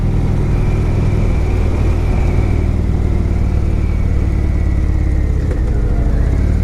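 A new Indian Chief Vintage motorcycle on a test ride gives a loud, steady low engine rumble close to the rider, with wind noise and a slight pitch rise toward the end.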